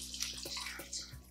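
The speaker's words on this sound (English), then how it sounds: "last is going to be 2 cups of chicken broth. We're just gonna pour that right in." Chicken broth pours steadily into a crockpot, a close, soft liquid splash lasting about a second over a low background hum.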